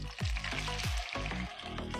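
Tomatoes and diced green chilies hit hot butter with browned garlic for Tex-Mex queso, giving a steady loud sizzle and crackle, with a couple of deep thuds as the ingredients drop into the pan.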